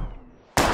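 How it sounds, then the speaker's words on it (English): A single gunshot from a handgun fired at bottles in the video game Life is Strange, a sudden loud broadband crack that cuts in after quiet low background ambience. "We're gonna shoot all these bottles without wasting a single bullet."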